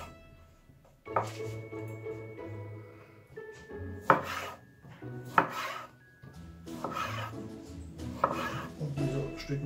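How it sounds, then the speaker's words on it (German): A knife chopping oranges into pieces for duck à l'orange filling, with irregular sharp taps on a cutting board at close range, the blade thudding through the fruit between softer rustling. "Ja, wir schneiden die Orangen in solche Stücken."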